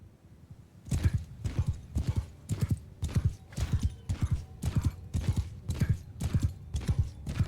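Horse hooves clip-clopping in the video game Mount & Blade II: Bannerlord, a steady, regular run of close, loud hoofbeats continuing throughout, heard alone.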